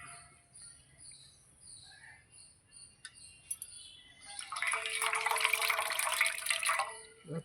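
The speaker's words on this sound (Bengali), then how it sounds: "এই যে ভালো জলে ধুয়ে নিলাম।" Washed chhana (curdled milk) drains with a steady, fairly loud rush of water over the second half, preceded by quieter drips and kitchen sounds.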